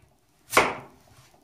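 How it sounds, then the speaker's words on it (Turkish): One crisp knife chop through potato on a cutting board, close and sharp with a short decay, during soup preparation in a quiet kitchen. "Patateslerimizi küçük küçük küper halinde doğrayacağız."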